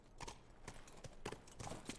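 A horse's hooves in The Last of Us video game, sounding as slow, heavy walking steps a few times over two seconds, close and distinct with no talking.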